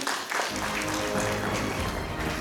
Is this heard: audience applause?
yes